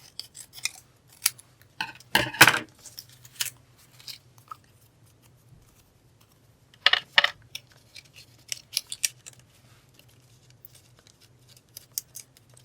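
Scissors snip and trim a piece of craft material near flowers, making crisp, close cuts in scattered bursts with quiet pauses between them and a faint low hum in the background.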